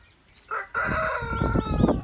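A rooster in a backyard poultry pen with three hens lets out one loud, close crow that rises and holds, after a short clucking note just before it.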